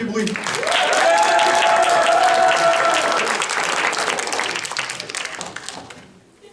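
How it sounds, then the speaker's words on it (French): Loud audience applause fills a hall at a cosplay contest, dense clapping that swells and holds for several seconds before tapering off, with some crowd voices mixed in. "On compte sur vous pour les applaudir très fort, s'il vous plaît, faites du bruit."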